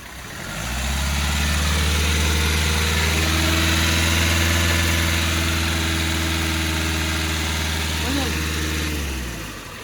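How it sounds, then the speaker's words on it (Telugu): A 2019 Hyundai Creta 1.4 diesel idles steadily, its low droning hum rising within the first second and holding evenly close by, with a slight bump near the end before it fades. "సింగిల్ సెల్ఫ్లో బండి స్టార్ట్ అవుతుంది సార్"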